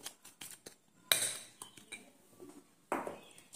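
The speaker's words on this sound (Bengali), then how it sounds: "এইগুলো শুকনো অবস্থায় একটু ভালো করে একসঙ্গে মিক্স করে নিতে হবে" A spoon mixes dry gram flour with other dry ingredients in a bowl, making light scraping and a few sharp metallic clinks against the bowl, close and quiet.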